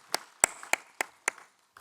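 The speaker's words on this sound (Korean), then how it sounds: "우리 하나님 아버지께 영광의 박수를 올려드립니다." A few separate, fairly loud claps ring out at uneven intervals in a church congregation during a Wednesday worship service, with quiet gaps between them and no voices.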